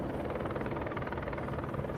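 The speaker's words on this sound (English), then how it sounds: "You can hear them helicopters though." Helicopters over the city during riots in Los Angeles, a steady churning rotor drone with pulsing low thuds, continuous and fairly loud, with no talk.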